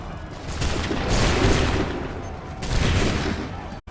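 Soldiers' musket volley in Assassin's Creed III, a dense, loud crackling roar of gunfire that swells, eases and surges again before cutting off abruptly.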